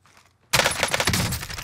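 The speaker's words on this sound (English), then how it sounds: "Oh, the guy was shooting before." After a brief near-silence, a sudden loud burst of rapid automatic gunfire cracks out in quick succession in the Call of Duty Warzone battle royale game, continuing dense and close until the end.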